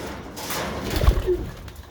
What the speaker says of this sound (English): let's feed the pigeons, they're getting a bit antsy